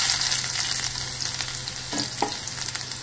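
Garlic sizzles in hot oil for a dry karandi (tiny shrimp) fry, a steady close crackling hiss with a couple of soft stirring knocks near the end and no talk.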